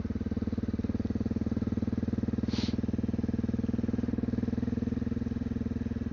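A Honda XR650L motorcycle ridden on gravel roads in the Missouri Ozarks, its single-cylinder engine thumping in a steady, even pulse throughout, close and loud with no voices.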